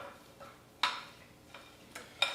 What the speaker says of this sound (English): Now, we're going to add the pecans. All right, keep on stirring.